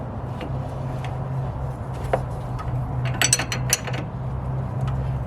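A ratchet clicks in short, quick bursts while tightening an Airlift suspension part on a Dodge Charger front bag install, close up over a low steady hum, with one louder run of clicks midway.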